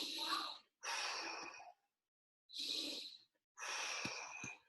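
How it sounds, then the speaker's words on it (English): Deep breaths drawn in and pushed out during a breathing exercise, four long airy breath sounds separated by short silences, close and clear with no words spoken. "Big deep breath in."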